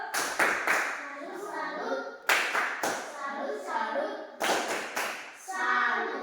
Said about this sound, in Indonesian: kelompok 2 tepuk salut untuk kelompok 1 dulu